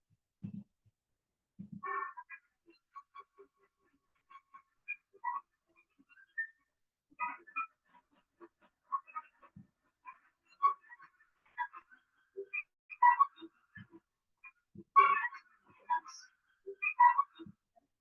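Clarinet multiphonics run through granular "boulder" processing into large grains of sound: sparse, scattered chirps, clicks and brief tonal blips separated by silence, faint at first and growing denser and louder toward the end.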